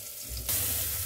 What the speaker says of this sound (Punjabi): ਹੁਣ ਲਾਉਣ ਲੱਗੇ ਤੜਕਾ ਤੇਲ।